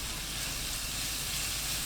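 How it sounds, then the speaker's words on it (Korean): Minced garlic sizzles in cooking oil in a pan over high heat, giving a continuous, dense crackling hiss, close and steady, with no talking. "팬에 식용유 2큰술, 다진 마늘 듬뿍 1큰술 넣고 센 불로 볶습니다"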